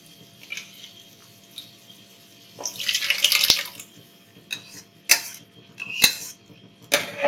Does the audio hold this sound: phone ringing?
no